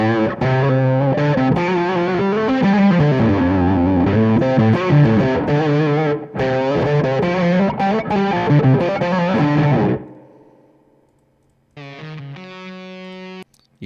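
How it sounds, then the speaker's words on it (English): Electric guitar through a fuzz tone on a digital rig plays thick, distorted chords and sustained notes for about ten seconds, rings out, then a brief brighter fuzzed phrase follows, loud and close, with no talking. "For some fuzz tones."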